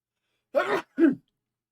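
Two quick sneezes close together, the first a bit longer, sharp and near, with silence around them.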